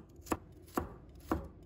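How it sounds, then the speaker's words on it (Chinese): Knife chopping garlic into fine mince on a board, three sharp, evenly spaced chops close up and fairly quiet, with no talk. "再改刀剁成蒜末，"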